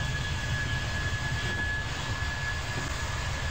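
Aircraft engines near an airport in Train Simulator 2015 give a loud, continuous roar with a high steady whine running through it.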